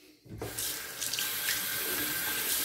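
After a brief near-silence a bathroom tap turns on and water pours steadily into the sink for wetting the face before a shave, a close, continuous hiss.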